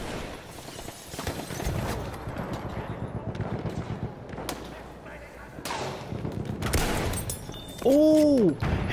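Gunfire from the World War I shooter Battlefield 1, dense overlapping shots and bursts through the whole stretch, ending in a louder close blast with a ringing tone, while a player talks over it.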